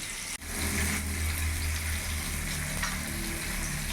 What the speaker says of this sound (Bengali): ভালো করে ডালের সাথে মিশিয়ে নিচ্ছি।